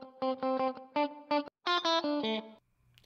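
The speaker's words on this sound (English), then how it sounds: "I'm adding an additional bit of reverb just to give it a little more dimension." Electric guitar phrase of short, distinct notes and a brief chord run, with extra reverb from the JD Factory Room Widener plugin adding space, played alone before ringing into a faint tail.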